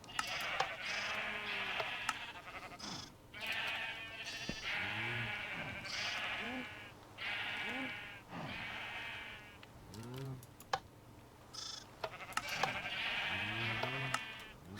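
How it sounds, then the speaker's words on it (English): Several Minecraft sheep bleat repeatedly, overlapping wavering baas near and clear against quiet background, with a few faint clicks between calls. "we've still got a lot of baby sheep in there"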